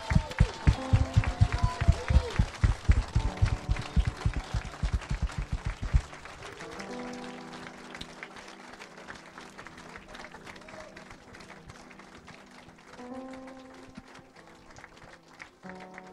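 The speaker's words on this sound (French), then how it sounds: "Je veux qu'on acclame Jésus-Christ de Nazareth." A church congregation in Bordeaux claps in a fast, steady rhythm that fades after a few seconds, followed by a quieter murmur of crowd voices and sustained singing or music.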